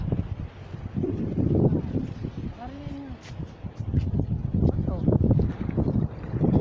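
Small boat riding along the shore at Bulusan Beach, with a steady wash of water and wind noise throughout and people talking over it.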